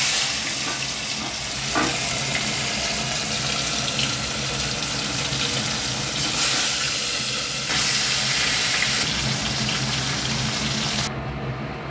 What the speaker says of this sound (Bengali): পার্শে মাছ আমি 350 গ্রাম নিয়ে নিয়েছি। এগুলো এখন ভেজে নেব।